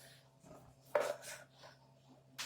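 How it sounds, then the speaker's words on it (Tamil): A knife roughly chops a ripe tomato on a board for banana-stem soup, giving a few quiet cuts with one sharper thump near the middle and another at the end, faint and close. "இது ரஃப் கட்டிங் கட் பண்ணிக்கங்க"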